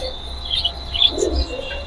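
Racer pigeons in a loft, soft low coos and brief chirps surfacing intermittently over a steady low hum, close and moderately quiet.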